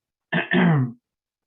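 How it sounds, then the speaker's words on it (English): A single close throat clearing, two quick guttural rasps run together, alone and loud against silence. "I'm having a little trouble clearing my throat."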